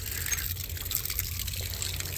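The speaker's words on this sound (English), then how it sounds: "I'll let you know when they stop dripping here" Water running and trickling from a leaking hose bib being repaired, a steady close wet splatter with a continuous liquid hiss and no talking.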